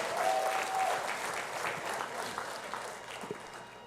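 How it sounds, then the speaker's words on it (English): Audience applause at a town hall meeting in St. Joseph, a steady wash of clapping from a crowd that holds for several seconds and then thins slightly, with no speech over it. "Can I have a round of applause?"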